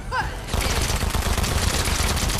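Gunfire in the video game Fortnite erupts as a dense, loud burst of rapid shots that continues without pause, after a brief moment of game sounds at the start.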